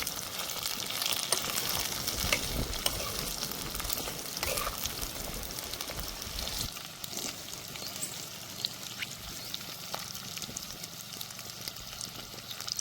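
Shahi paneer gravy cooking in a pan gives a steady, close sizzle with bubbling, which eases slightly partway through.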